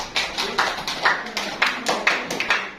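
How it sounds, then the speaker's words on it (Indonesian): Scattered hand clapping from a small group of students for a team at a school class presentation, a few seconds of uneven, moderately loud claps in repeated bursts. "Kasih aplaus untuk tim."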